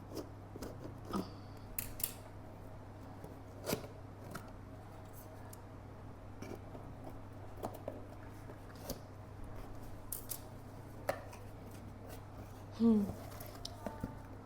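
A parcel holding Plum toner is opened with faint snips, crinkles and scattered rustles of packaging. A voice talks intermittently in a quiet room.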